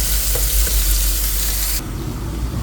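Onion hitting a hot pan in a home kitchen, a steady loud sizzle of frying that continues evenly throughout, with no talking.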